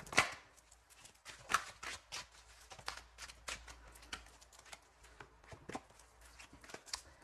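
Tarot cards being shuffled for a second draw, a run of soft papery riffles and flicks at close range with brief pauses and no talk.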